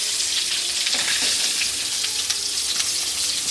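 Koi fish frying hard in oil over a high flame, a steady loud sizzle with crackling spatter and occasional stirring, no talking.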